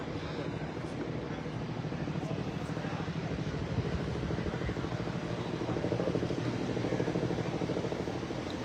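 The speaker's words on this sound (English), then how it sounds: "There's helicopters overhead, a drone." Helicopters and a drone flying overhead near a university campus during an emergency response, a steady broadband rotor and engine drone that holds throughout at moderate loudness with no talk.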